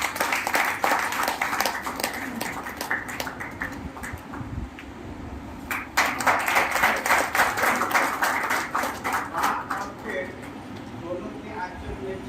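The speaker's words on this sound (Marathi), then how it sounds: "आपण सर्वांनी जोरदार टाळ्या वाजवाव्या" An audience claps to welcome an advocate at a public felicitation event, a rolling patter of many hands that swells and eases across the clip while voices talk over it.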